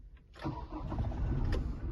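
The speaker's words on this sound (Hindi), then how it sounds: "तो चलिए अब मैं इस कार को आपको स्टार्ट करके दिखाता हूँ" Toyota Innova Crysta 2.4 diesel engine cranking and catching after a short quiet moment, then settling into a steady, fairly close diesel idle with no talking.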